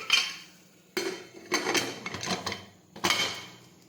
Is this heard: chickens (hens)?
no